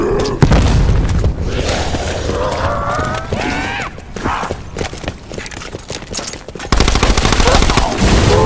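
Rapid automatic gunfire in the Blood of the Dead zombies mode, loud and sustained with dense bursts, layered over game music and effects, with a short pause before firing resumes heavily near the end.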